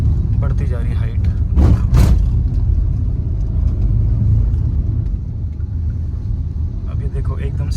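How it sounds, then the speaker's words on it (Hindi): A car strains up a steep hill road near Jodhpur, its engine giving a steady low rumble with a brief louder surge partway through, the drone continuing alone to the end. "देखो ऐसे गाड़ी थोड़ा लोड लेती है चढ़ने में"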